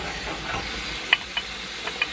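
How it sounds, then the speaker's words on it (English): Homemade Nando's-style chicken sizzling in a pan, a soft steady frying hiss with a few sharp crackles and pops standing out. "Do you hear that sizzle, Billy?"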